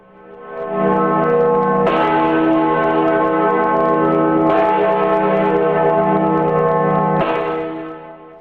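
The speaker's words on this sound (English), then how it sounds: "The Great George Bell remains an integral part of this great academic building." The Great George Bell, a large bell in a grand academic building, struck three times at regular intervals, each loud, close strike swelling into a rich, sustained hum that rings on between blows.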